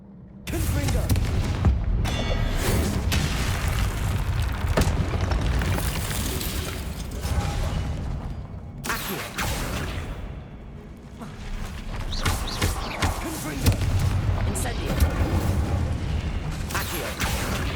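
Repeated Confringo fire-spell blasts in the Hogwarts Legacy video game, loud booming explosions and crackling impacts layered over continuous battle noise and music, with brief quieter gaps between bursts.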